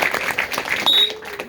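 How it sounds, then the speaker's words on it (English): A short burst of applause rises from a gathering of seventh graders and varsity captains, brief clapping with voices under it. "Give them a round of applause."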